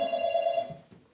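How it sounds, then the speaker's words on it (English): A telephone bell rings indoors in a steady, fairly loud burst lasting about half a second, then trails off into quieter room sound. "That's the phone, Ken."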